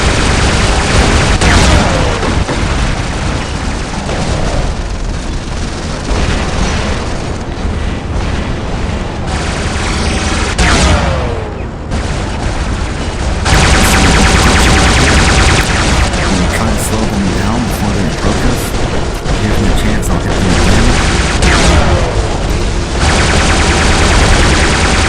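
Robot guns blasting in the War Robots video game, loud continuous bursts of gunfire and heavy booms layered over each other, with a brief lull midway before the barrage resumes.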